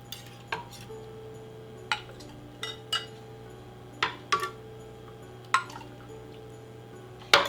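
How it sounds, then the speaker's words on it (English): Homemade hot chocolate is ladled into a mug, heard as scattered clinks of the ladle against pot and mug with soft liquid drips between them, close by over a low steady hum and with no talk. "Now I'm just going to ladle some into my mug here."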